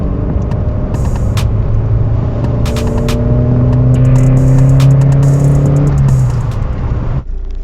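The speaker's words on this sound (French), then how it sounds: "On va accélérer progressivement. Première. Deuxième." A tuned petrol car engine accelerates progressively through first and second gear, revs climbing steadily, dropping at the shift, then rising again to a loud strained pitch before cutting off near the end.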